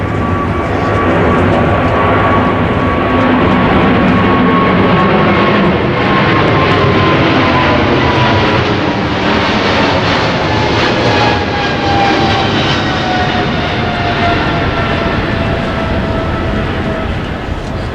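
An airplane passes overhead near the airport at an outdoor ribbon-cutting ceremony in San Bruno, California. A loud continuous engine roar with a slowly falling whine fills the whole stretch and drowns out everything else.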